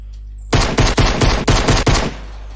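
Fortnite gunfire: after a quiet start, a burst of about six rapid, loud, close shots in even succession, ending abruptly, with no talking.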